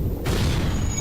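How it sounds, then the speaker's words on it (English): A missile strikes a ship in the FTL space game, a single sudden boom that cuts in after a brief hush and holds as a dense, loud roar through the rest of the moment. "we'll see where his missile hits"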